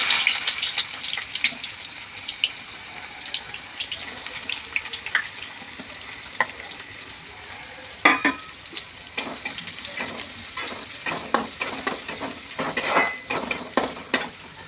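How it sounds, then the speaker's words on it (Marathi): Chopped onion and curry leaves dropped into hot oil in a pan, starting with a loud sizzle that settles into steady frying, overlaid by repeated sharp clicks and scrapes of a spoon stirring against the metal pan. "आता मी तेलामध्ये कांदा आणि कढीपत्ता घालते."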